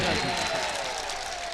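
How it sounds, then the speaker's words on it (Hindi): A mushaira poetry audience in Lohta, Varanasi, bursts into a dense, steady wash of applause, loud and sustained throughout, with no distinct individual claps standing out. "एक बार जोरदार ताली आप अपने लिए बजा दीजिए।"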